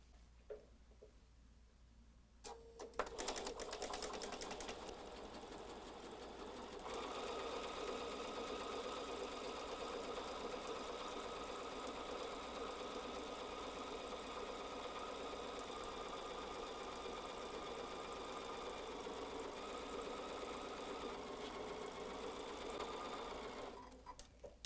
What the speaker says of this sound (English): I'm going to sew that with this being my only aid